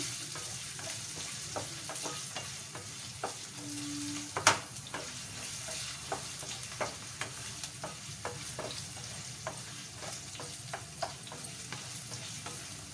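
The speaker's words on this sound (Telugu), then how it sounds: "బంగాళదుంపలు వేగిన తర్వాత బాగా వేయించేసి ఇలాగా" Potatoes fry in a pan for sago khichdi, with a steady sizzle and a low background hum throughout, broken by occasional soft scrapes and taps of stirring and one sharp clink.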